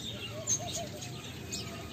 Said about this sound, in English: ang cute! Ang cute ng mga bird!